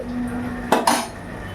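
A metal lid is set onto a cooking pot of capsicum chicken, giving two quick close clanks a moment apart over a faint kitchen background hum.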